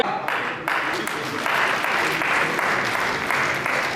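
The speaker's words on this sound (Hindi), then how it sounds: "एक बार जोर से तालियां बजावे" Steady audience applause at a BJP political event in India fills the room, a dense wash of clapping that swells slightly and continues without pause, with a voice faintly under it.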